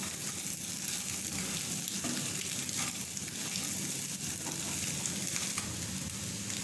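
Egg and other fried-rice ingredients sizzle steadily in a pan while being stirred and mixed, a dense, continuous frying hiss with soft scraping through the whole stretch, no voices.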